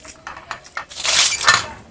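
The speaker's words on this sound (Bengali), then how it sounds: "এবার ঢাকনাটা খুলে দেখব।" A metal lid clinks and rattles as it is lifted off a pan of baking biscuits, a few close, bright clanks of cookware.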